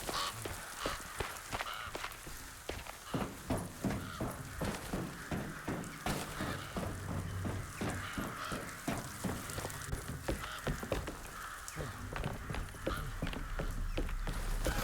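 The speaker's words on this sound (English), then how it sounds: "The birds, the birds!" Birds in the horror game Alone in the Dark caw and honk in a rapid, rhythmic stream of harsh calls, fairly loud and continuous over a murky ambient backdrop.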